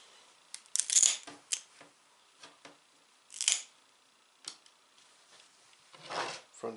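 Tools nip the paws off a skinned mink, making sharp, quiet snips and clicks that come scattered and irregular at close range.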